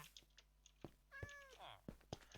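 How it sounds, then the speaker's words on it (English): Stray cats in Minecraft give a clear, close meow with a rising then falling pitch, set among soft clicks and faint game sounds. "A lot of stray cats. That meowing is not going to be irritating at all."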